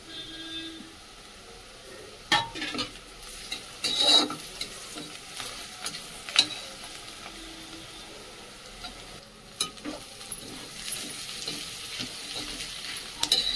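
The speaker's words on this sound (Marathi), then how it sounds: "हे बघा कांदा परतून घेते। आता लसूण टाकूया आता।" Onion and then garlic sautéing in oil in a pan, a steady close sizzle broken by scraping and clanking of a spatula as it is stirred, with no voices.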